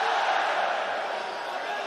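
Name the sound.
arena crowd cheering at MMA fight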